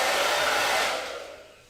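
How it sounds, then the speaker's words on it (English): A hairdryer blows loudly and close while drying a wet silkscreen mesh, a steady rushing whoosh that fades away as it is moved off or switched down near the end. "I am using a hairdryer to dry this"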